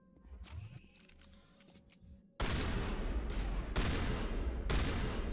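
Rapid bursts of shotgun fire from Krogan combat in Mass Effect Legendary Edition, starting abruptly after a quieter stretch of ambient game sound, then loud, dense and sustained blasts with distinct heavy shots.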